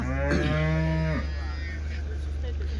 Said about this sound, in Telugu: టాప్ క్వాలిటీలో ఉన్న ఆవులు అయితే ఎక్కువ వస్తుంటాయండి ఇక్కడ